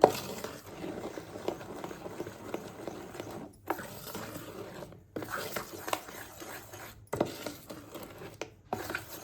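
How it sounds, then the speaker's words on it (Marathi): A spoon stirs salted idli batter in a bowl, giving soft wet patters and light scraping clinks in uneven bursts with brief pauses between strokes. "याला व्यवस्थित हलवून घ्यायचं आहे आपल्याला"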